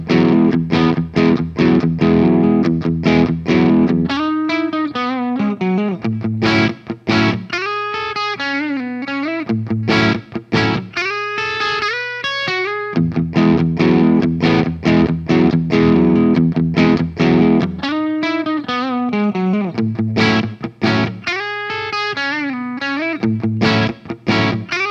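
An electric guitar played through a Fender Marine Layer reverb pedal set to a short-decay room, with distorted chords and melodic phrases ringing loudly and continuously for the whole passage with no talking.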